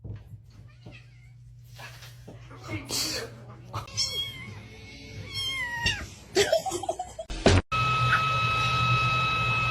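Cats meowing in a home, with a few short mews and a caterwaul scattered across the clip, close and fairly loud, while people talk at times.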